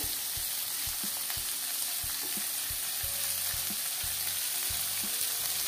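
Curry leaves, potatoes and eri silkworm pupae fry in a hot pan with a constant loud sizzle, punctuated by regular close stirring and scraping strokes.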